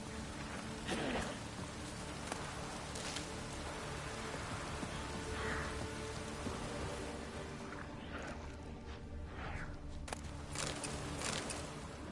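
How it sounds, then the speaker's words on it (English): Steady rainfall in The Witcher video game, a constant hiss of drops hitting surfaces with scattered louder splashes and patters throughout, no voices. "Looks like rain."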